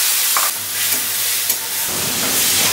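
Spice paste mixed with water goes into a hot pan of frying potatoes for a Bengali curry, giving a sudden loud sizzle and hiss that swells midway and keeps crackling steadily, with stirring noises on top.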